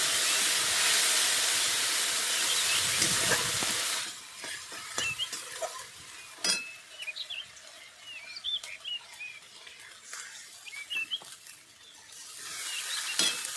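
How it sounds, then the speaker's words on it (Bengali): A spice mix fries lightly in a pan, starting with a loud hissing sizzle that drops after a few seconds to quieter crackle and sputter, with scattered stirring taps and a sizzle that swells again at the end. "এই মশলাটা একটু হালকা করে ভেজে নেব"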